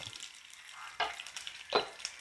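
Mustard seeds and fenugreek seeds sizzle and pop in hot oil in a pan, a soft steady crackle broken by two sharper bursts of spattering, close and alone without talk.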